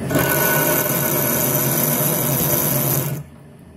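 A worn-out drill cutting metal at slow speed whirs steadily with a high, even whine, running continuously for about three seconds before cutting off abruptly.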